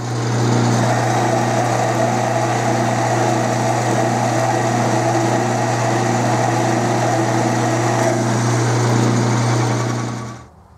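A metal lathe takes a cut of about forty thousandths while machining an overall length gauge, giving a steady close motor whine with a constant low hum that runs evenly, then cuts off sharply near the end.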